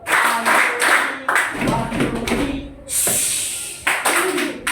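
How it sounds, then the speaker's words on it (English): A standing classroom of students claps together in short, sharp bursts, with a few quick clap rounds separated by pauses and voices between them. "let's do the quickest clap"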